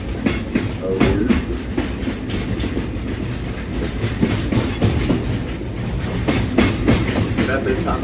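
A Frisco Silver Dollar Line passenger train rolls steadily along its rails with rhythmic clickety-clack and rumble, a continuous loud ride noise with passengers or an announcer audible intermittently.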